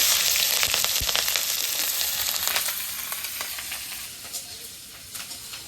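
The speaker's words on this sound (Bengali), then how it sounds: "পেঁয়াজ কাঁচামরিচ সুন্দর ভাজা ভাজা হয়ে গেছে" Chopped onion and green chili fry in oil in a pan in a village kitchen, a loud close sizzle with crackling pops that slowly fades and thins toward the end, no voices.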